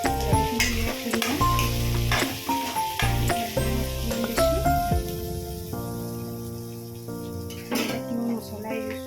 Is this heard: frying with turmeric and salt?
yes